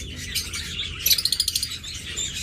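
A master pair of high-marking, red-eyed pet birds chirp nearby in a run of quick, rhythmic tweets over a steady background hiss, with soft flapping as they flutter about.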